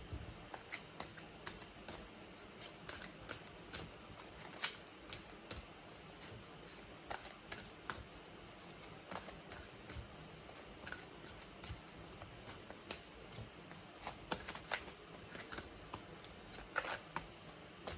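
Cards from an Angel Answers oracle deck being shuffled by hand, a steady run of soft riffling flicks and clicks, close and quiet, with no voices.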